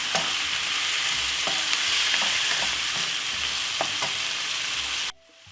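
Chilli king prawn fry-up with veg, seasoned with coarse pepper, stirred in a hot pan, steady loud sizzling with a few scraping strokes of the utensil, cut off abruptly near the end.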